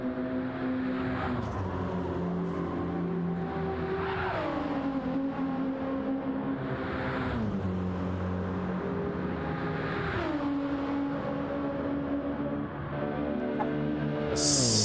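Race cars at the Nürburgring 24h pre-qualifying lap the circuit, engines droning steadily and rising and falling in pitch as cars accelerate, shift and pass in succession, loud and continuous throughout.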